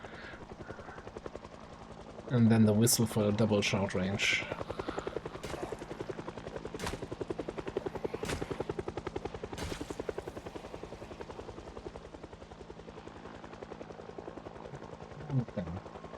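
A helicopter flying overhead in the zombie survival game Project Zomboid, a steady droning rotor hum running through the whole stretch beneath a man's speech.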